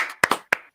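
Hands clap three or four times in quick, uneven succession, close and sharp, each clap ringing briefly in the room.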